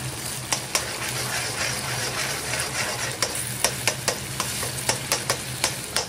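Egg being stirred in a frying pan with pasta, a steady sizzle underneath and a run of sharp utensil scrapes and taps coming close together in the second half.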